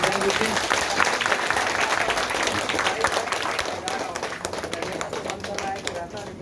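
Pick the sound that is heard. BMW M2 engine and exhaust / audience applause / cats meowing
audience applause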